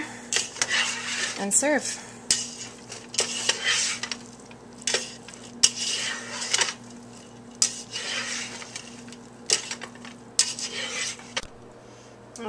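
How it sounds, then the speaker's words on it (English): Sausage dish stirred together in a pan for a weeknight meal, with repeated scraping and clinking of a utensil against the pan in short bursts, under a steady low hum, with brief talk near the end. "And just mix it all together"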